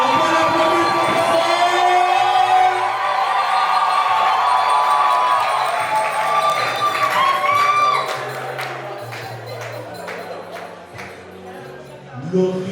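Wedding guests at a religious ceremony clap and cheer for the bride, a dense crowd roar of applause and whoops with a steady low hum beneath, fading slightly toward the end.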